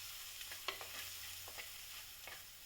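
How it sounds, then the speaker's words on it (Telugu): A spoon stirs turmeric into a curry in a hot pan, with quiet scraping strokes over a soft, steady sizzle of frying, faint and close with no voices. "పసుపు వేసుకొని పచ్చివాసన పోయే వరకు ఈ విధంగా కలిపేసుకోవాలి మొత్తం."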